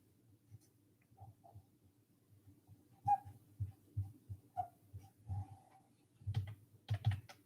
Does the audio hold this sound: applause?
no